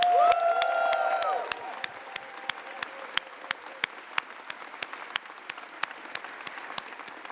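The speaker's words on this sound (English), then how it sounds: "Let's hear another round of applause for Caroline Russell." Audience applause at a college political rally, a loud burst of clapping at the start fading to scattered, sparse individual claps over several seconds, with a brief tone and faint voice early on.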